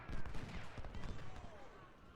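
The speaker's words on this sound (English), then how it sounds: "you stop firing at the cannon" Massed musket volleys and cannon fire from a Civil War battle in the Ultimate General: Civil War strategy game, with dense crackling gunfire and heavy booms rolling continuously, loud and close.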